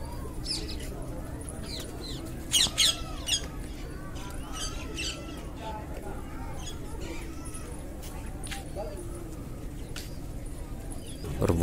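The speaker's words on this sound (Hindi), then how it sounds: "यहाँ पर दिखाई दे रहे हैं बहुत सारे तोते, उनकी आवाज़ें सुनाई दे रही है" Parrots squawking in short scattered calls at a middle distance at the Varanasi ghats, over steady outdoor background noise, with a few louder bursts.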